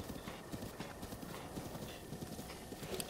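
Wild horses in a video game make rapid, continuous hoof clip-clops at moderate volume, with a faint steady background hum beneath and no clear speech.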